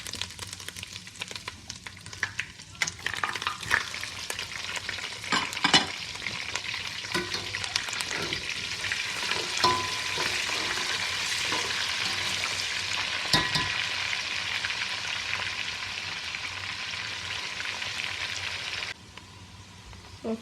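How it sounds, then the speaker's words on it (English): Sliced onion sizzles in hot oil, a steady frying hiss with scattered pops and crackles that briefly cuts off near the end. "Then I'm going to add the sliced onion."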